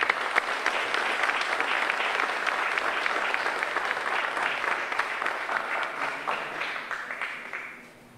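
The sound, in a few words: audience applause welcoming the mayor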